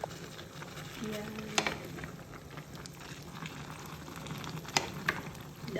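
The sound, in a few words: Filipino vegetable dish simmering in a pan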